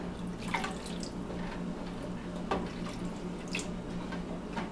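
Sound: water being added to a cooking sauce

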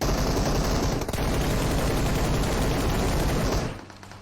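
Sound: gunfire in PUBG Mobile video game

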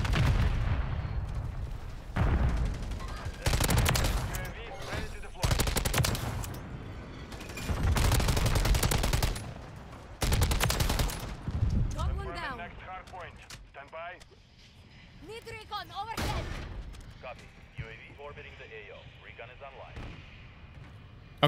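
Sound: VTOL killstreak gunfire in Call of Duty MW3 video game

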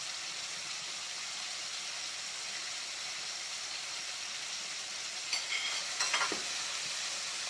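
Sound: garlic frying in a pan

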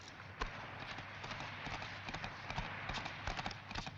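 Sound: horses galloping away

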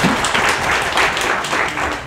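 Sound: congregation applause

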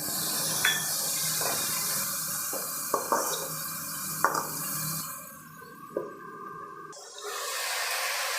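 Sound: water added to frying vegetables

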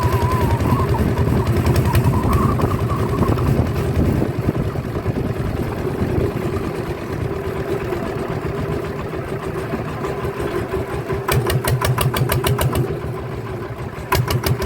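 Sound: ET95 engine bored to 155 vehicle being driven

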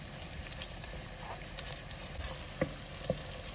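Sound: homemade tomato paste stirred and melted in hot oil

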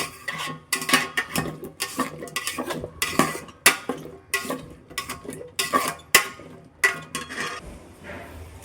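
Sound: lightly stirring potatoes and carrots in a pot for khichuri

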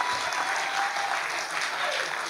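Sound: congregation clapping

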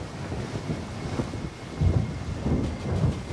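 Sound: thunderstorm thunder

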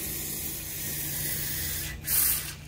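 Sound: spraying 3M cavity wax into car rockers

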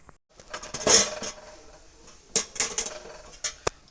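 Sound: lid placed on pot of cashew curry

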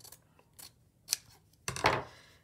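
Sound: scissors cutting a piece off

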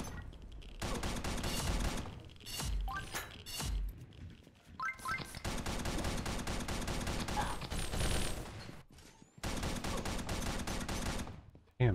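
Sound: plasma rifle firing in video game Pixel Gun 3D

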